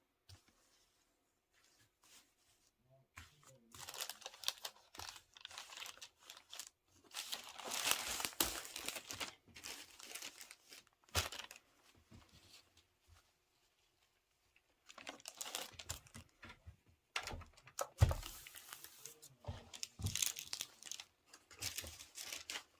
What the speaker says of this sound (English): I'm going to cover it with this parchment paper.